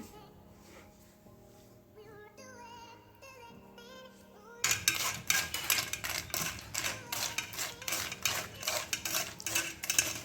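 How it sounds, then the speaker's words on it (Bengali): A metal spoon scrapes and clinks rhythmically against a strainer, pushing and mixing yogurt for a Rooh Afza lassi, with quick repeated taps growing loud after a quieter opening passage of music. "একটা স্ট্রেনারের মধ্যে ঠেলে নেব তারপরে একটা চামচের সাহায্যে এগুলোকে মিক্স করতে থাকবো"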